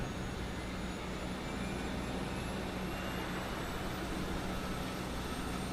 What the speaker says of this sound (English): Engine.